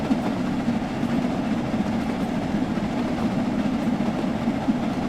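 A steam locomotive in Train Sim World 6 heard from outside, running at speed along the rails, giving a steady, dense rumble with a faint rhythmic clatter of wheels that stays even throughout, with no voices.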